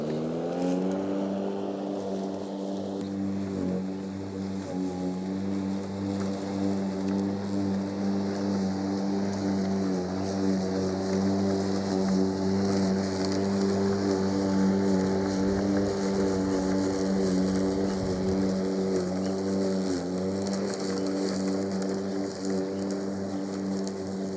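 A Fieldmann FZR 70465-0 cordless brushless lawn mower cutting and throwing grass at cutting height level 3, a steady loud motor whine with a constant pitch and a grassy rushing hiss, running without pause.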